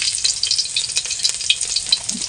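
Chopped garlic frying in hot oil for chow mein, a loud, close, continuous sizzle with crackling bursts and light stirring.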